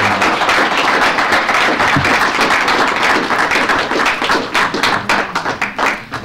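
A crowd at a talk by CIGNA whistleblower Wendell Potter bursts into loud, dense applause and clapping to welcome him. It holds steady, then thins into scattered claps near the end.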